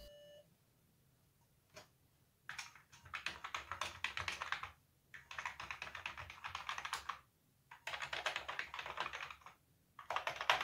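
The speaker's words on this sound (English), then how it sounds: "And all the keys are functioning." Rapid clacking keystrokes on an Atari 65XE computer keyboard come in several bursts separated by short pauses, with a faint beep at the start.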